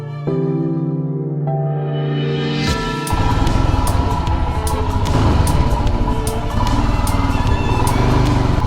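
Motorcycle starting up and running in a parking area in Godowlia, Varanasi, a steady engine drone building into a louder, rougher rumble, close by and without talk.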